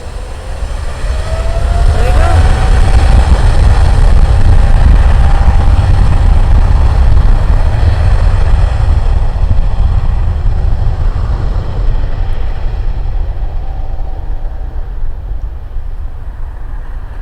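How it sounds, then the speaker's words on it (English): A large airliner taking off at LAX airport, a loud sustained low-frequency engine roar that builds early and stays steady before easing slightly, with a faint whine, a person speaking over it. "Alright, it's ready for takeoff. It's a big plane,"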